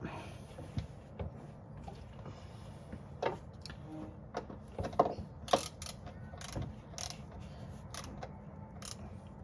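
A wrench ratchets and clicks while a transfer case drain plug is tightened back in, with scattered short metallic ticks and scrapes over a quiet background.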